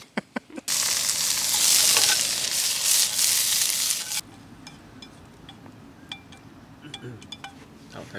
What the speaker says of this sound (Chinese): 因为他们都在煎蒜片。